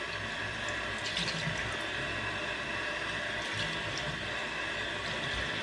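A kitchen tap runs steadily into a sink, warming the water for a head shave: a continuous, close rushing splash with no pauses and no voices.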